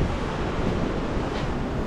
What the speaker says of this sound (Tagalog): Grabe ang dagat.